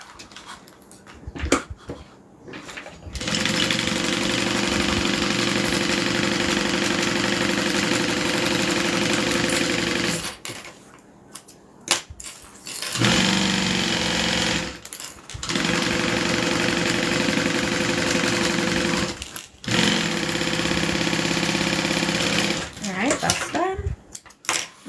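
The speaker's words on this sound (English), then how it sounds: "So now we're just going to sew it together." A sewing machine stitches through two layers of vinyl in long, steady mechanical bursts of whirring, separated by short pauses, close and fairly loud.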